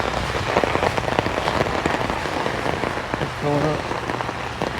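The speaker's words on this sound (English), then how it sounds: "Alright, it's raining pretty good." Rain pours outdoors beside a stormwater basin with a dry well, a loud, steady patter of drops on surfaces close by, with a brief low hum partway through and no talk.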